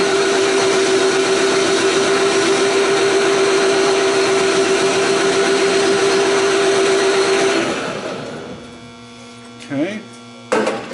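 A metal lathe chamfering a steel part gives a steady mechanical whine with a strong constant tone for several seconds, then winds down, leaving a quieter hum and a couple of brief sharp noises.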